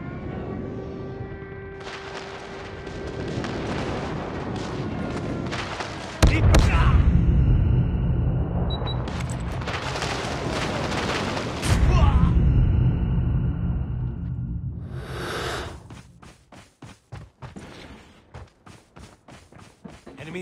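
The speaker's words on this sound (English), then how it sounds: "Friendly airstrike incoming." Loud airstrike explosions in a Call of Duty multiplayer match, deep rumbling booms arriving in two heavy waves, with scattered gunfire, game voice callouts and a few sharp cracks trailing off at the end.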